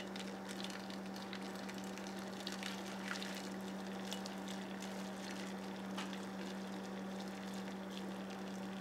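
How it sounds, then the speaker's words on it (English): Boiling water is poured from a pot into a bowl holding two pieces of cardboard, a quiet, continuous trickling and splashing of liquid with occasional drips over a steady low hum. "we're going to cover them with our boiling water"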